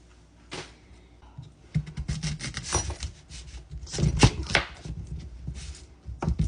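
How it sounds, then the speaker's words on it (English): Knife chopping sweet potato into large dice on a cutting board, a run of irregular close knocks and scrapes that build in density, with no talking. "We're gonna cut it into dices, big dices."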